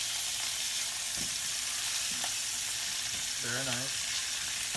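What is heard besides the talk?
chicken pieces frying in a pan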